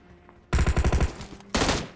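Automatic gunfire from the mobile game Battlegrounds Mobile India: a loud rapid burst of about seven shots, then a single heavy blast after a short pause, with no talking.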